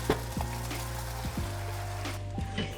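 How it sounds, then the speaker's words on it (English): Steady crackling sizzle of veal pastrami cooking on a hot grill, with a few sharp pops and taps, no voices. "The sizzle."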